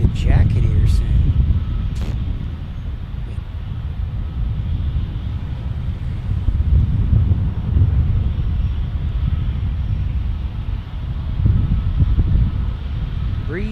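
Wind blows at San Diego airport, a loud, continuous low-pitched roar buffeting the microphone throughout, with a few faint distant tones and brief clicks over the rumble.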